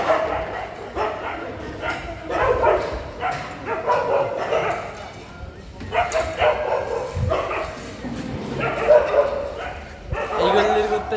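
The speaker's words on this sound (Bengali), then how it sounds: "ইতিমধ্যে রাস্তার কুকুররা শুরু করে দিচ্ছে ঝগড়া।" Street dogs fight outside before dawn on Eid morning, breaking into repeated bursts of barking, yipping and whimpering at close range while people talk over them.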